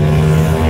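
Motorbikes racing along the NH 717A highway on a foggy day, heard as a loud, steady engine drone that stays close through the whole brief moment, with no voices.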